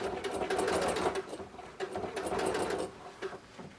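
A sewing machine top stitches close to the edge of bias tape on bulky quilted vest fabric, running in two fast rattling bursts with a short pause between, close-up and fairly quiet.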